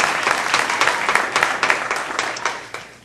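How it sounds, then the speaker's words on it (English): Audience applauding at the Akron Neighborhood Trust Ujima Project community meeting, a steady dense wash of many hands clapping at close range that fades slightly toward the end. "give yourselves a round of applause for being here"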